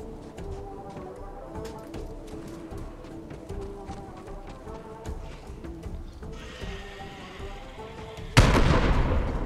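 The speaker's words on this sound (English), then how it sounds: "Nice explosion." Explosion in the video game Borderlands 3, a sudden loud broadband blast near the end, standing out over steady game audio with music and effects.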